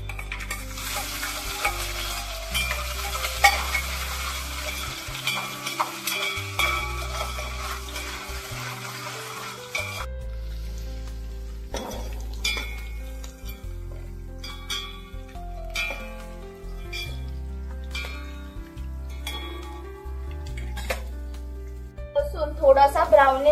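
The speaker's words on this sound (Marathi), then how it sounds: "कढीपत्ता आणि आपण जो लसूण ठेचून घेतला आहे, हा जो लसूण आपण ठेचून घेतलाय तो घालायचा." Crushed garlic and curry leaves frying in a pan, sizzling steadily under stirring and occasional clinks of a utensil, with a voice talking over much of it.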